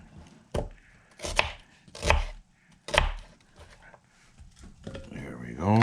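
A knife chops ingredients for beef stew on a board, several distinct heavy thuds spaced irregularly and close up, followed by a voice speaking at the end.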